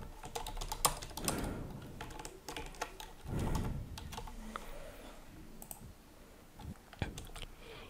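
Someone types a live stream title on a computer keyboard: irregular bursts of close, crisp key clicks, with short pauses between flurries and no voices.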